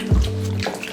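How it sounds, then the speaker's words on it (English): Feet dropping into a basin of water during an at-home pedicure, one close splash followed by sloshing and a low hollow resonance from the basin. "Drop your feet back into the water."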